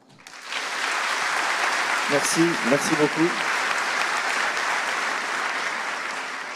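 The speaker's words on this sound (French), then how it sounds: "Donc je vous demande s'il vous plaît d'applaudir bien fort" Conference keynote audience applauds in a sustained, dense wash of clapping that swells quickly and carries on steadily, with someone briefly speaking over it.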